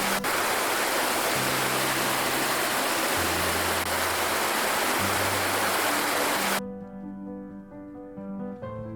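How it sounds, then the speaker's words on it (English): A mountain creek in Glacier National Park rushes steadily in a loud, dense wash of water noise. It cuts off sharply near the end, where soft music with tonal chords takes over. "Lunch Creek, which then joins with other runoff streams to carve the valley."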